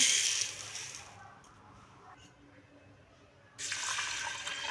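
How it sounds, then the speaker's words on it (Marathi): Moong dal lentils being rinsed in water in a kitchen, with a close splashing, running-water wash at the start, a quieter stretch with small sloshes, then the splashing rising again near the end. "डाळ स्वच्छ धुवून घ्यायचं आहे"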